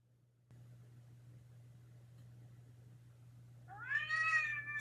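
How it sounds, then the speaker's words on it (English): A house cat gives a single drawn-out meow near the end, close and clear, after several seconds of quiet with only a low steady hum in the room. "Enough with those meows,"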